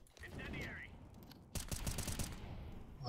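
CS:GO game gunfire with rapid automatic bursts that are quiet and somewhat muffled, ending with a denser stretch of shots.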